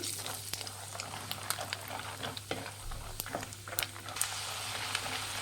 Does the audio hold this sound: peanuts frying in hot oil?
yes